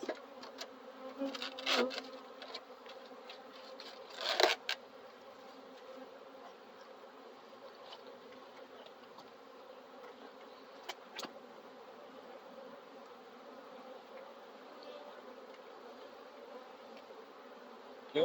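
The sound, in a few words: stinging bees or wasps buzzing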